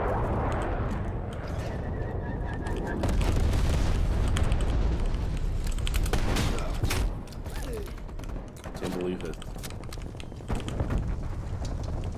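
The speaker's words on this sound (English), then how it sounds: "Sitrep, napalm strike inbound." A napalm strike in Call of Duty Black Ops Cold War on the Nuketown map sets off a long, loud, rolling series of explosive booms and crackling bursts that swell and fade over several seconds.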